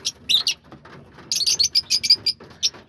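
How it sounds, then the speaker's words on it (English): Lovebirds chirp in quick, shrill bursts, fairly close and busy, with soft rustling underneath and no talking. "the lovebirds right here. The little noisy guys"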